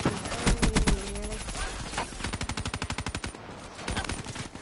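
Black Ops 3 automatic weapon firing in rapid, evenly spaced bursts. One long fast string of shots rattles clearly in the foreground, and shorter bursts come before and after it.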